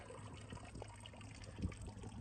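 A desert stream in Anza Borrego Desert State Park, barely flowing, trickles and dribbles softly in a faint, steady wash, with no voices present.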